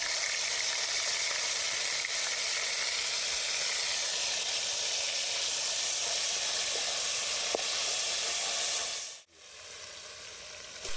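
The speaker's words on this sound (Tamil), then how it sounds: "அடுத்து கறியில் மசாலா சேர்த்து வதக்க போகிறோம். ஆயில் சேர்த்துக்கோங்க. அடுத்து இஞ்சி பூண்டு பேஸ்ட் சேர்த்துக்கோங்க." Chicken sizzles loudly and continuously in a pan of hot oil with ginger garlic paste, a steady close hiss that briefly cuts out near the end before resuming.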